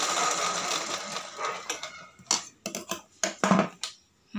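A Pico sewing machine stitches fabric at the start, a steady close whirring that breaks off midway into short stop-start bursts of running with quiet gaps between them.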